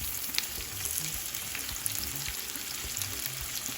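Saltfish frying with onions and sweet pepper for a Jamaican cook-up breakfast, giving a continuous close sizzle with soft crackles and occasional utensil clicks.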